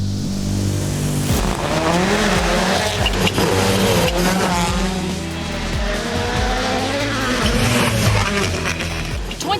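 Rally car on a hot, dusty gravel stage at Rally Portugal roars past loudly, engine revving and shifting with rising and falling pitch sweeps, tires crunching gravel throughout.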